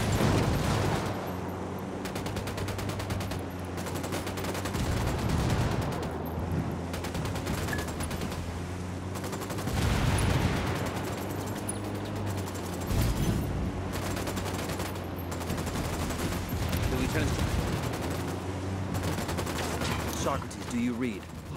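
Gunfire in the video game Ghost Recon Wildlands, with repeated bursts and volleys of shots over a rumbling battle backdrop, sustained and fairly loud, with voices talking at times.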